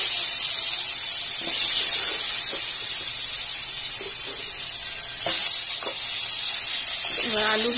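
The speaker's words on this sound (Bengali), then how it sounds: "এই আলুগুলোকে ভেজে নিচ্ছি।" Potatoes fry in hot oil in a pan with a loud, even sizzling hiss and a few faint stirring knocks, with a brief murmur of voice near the end.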